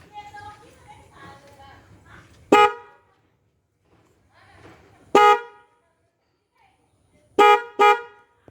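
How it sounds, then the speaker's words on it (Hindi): Hella trumpet dual-tone car horn fitted as a pair of horns, sounding in three loud blasts: a single blast, a second, then two quick blasts close together, with someone talking before the first. "तो इसका हॉर्न अभी मैं आपको साउंड टेस्ट दिखाता हूँ।"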